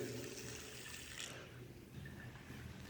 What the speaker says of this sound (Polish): Woda sobie leci.